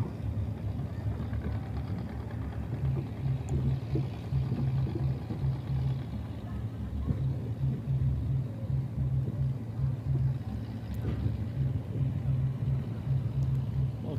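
A jukung motorboat engine on the Musi River in Palembang chugs steadily, a low continuous rumble with a pulsing putter that holds at the same level throughout, fairly close, with no clear talk.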